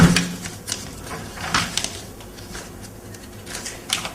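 Sheets of paper are shuffled at a poetry reading, giving soft, irregular rustles and brief crisp flicks over about four seconds, close and fairly quiet.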